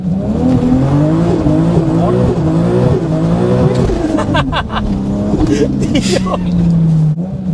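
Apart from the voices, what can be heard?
tuned Toyota Supra revving and spinning its wheels in rain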